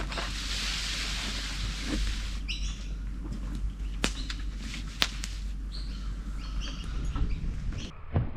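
Birds call and whistle sporadically around a riverside campsite on the Murray River, sharp chirps and whip-like calls standing out over a low constant outdoor hum, moderately near.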